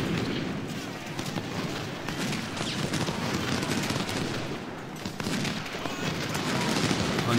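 Musket volleys in a Civil War battle from the video game Ultimate General, a faint, continuous crackle of scattered gunfire with dull thumps, steady throughout and heard at a distance.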